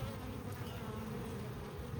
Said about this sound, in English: But there's still bees in here.